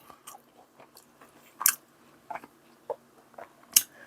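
Someone eating a late-night meal or dinner, with soft, irregular bites and chewing crunches that come in brief bursts, a few louder than the rest, close and alone with no talk.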